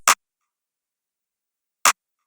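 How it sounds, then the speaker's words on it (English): A clap sample layered with a snare in an FL Studio trap beat, struck twice with crisp, bright, short bursts about two seconds apart over silence. "we also have a clap, which is layered together with the snare"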